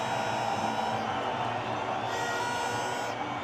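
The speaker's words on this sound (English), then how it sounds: "6, a much-needed 6, and the crowd have been awoken." Stadium crowd at a one-day international cricket match between Sri Lanka and England, a steady dense roar of cheering and whoops from many spectators after a six, sustained and fairly loud throughout with no break.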